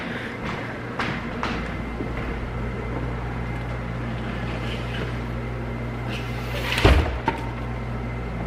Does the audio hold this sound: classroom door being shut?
yes